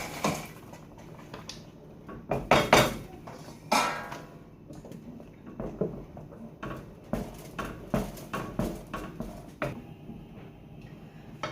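Kebabs are added to a pot of hot spiced meat for Lahori harissa and stirred, giving irregular close clinks and scraping knocks of a utensil against the pot, busiest early then settling into steadier taps.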